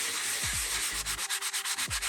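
A cheap handheld sanding block roughs up the surface of a tumbler lid in brisk scraping strokes, close and steady, the later strokes quick and rhythmic, with no talking.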